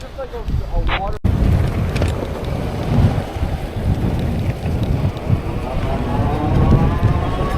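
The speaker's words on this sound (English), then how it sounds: "Got a headwind here." Strong headwind buffets the microphone of a fast e-bike, a continuous loud rumbling roar of wind noise that swells and dips throughout, with a brief dropout near the start.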